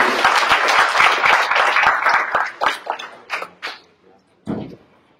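A small gathering at an alumni association's constitutive general assembly claps, the applause thinning into scattered individual claps, with a voice speaking briefly over the fading sound.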